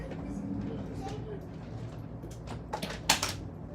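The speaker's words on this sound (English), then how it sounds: "Let me go close this door because this little girl is being crazy loud." A door is pushed shut indoors, a short sharp knock near the end after a couple of softer bumps, over steady room noise.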